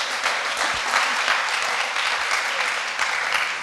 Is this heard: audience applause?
yes